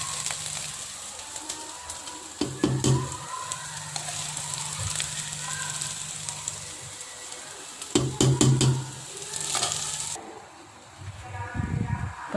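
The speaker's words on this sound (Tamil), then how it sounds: "ஸோ வெங்காயம் நல்லா வதங்கிருச்சு." Onions sizzle in a hot pan while sautéing for adai dosai batter, a steady crackling hiss with a few louder bursts and brief talking nearby.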